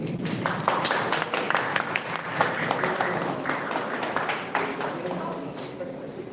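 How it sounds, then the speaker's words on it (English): A crowd at a Miss World press conference applauds steadily at moderate volume, dense clapping sustained throughout with a few voices mixed in. "a round of applause"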